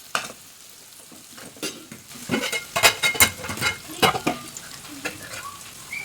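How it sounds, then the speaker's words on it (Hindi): Omelette frying in an old, worn kadhai with both handles broken, sizzling steadily with bursts of stirring and scraping strokes in the middle, fairly close and with no talk. "देखो मैं ऑमलेट डाल दे रही हूँ"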